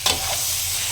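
Potatoes and radish frying in a pan for a home-cooked sabzi, a steady broadband sizzle with a brief stir or scrape near the start, close and continuous for the whole second.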